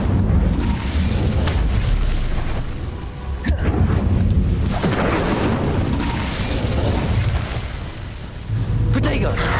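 An Incendio fire spell cast in Hogwarts Legacy, a loud roaring blast of flame and booming bursts over dense game noise, with a voice calling out amid the action.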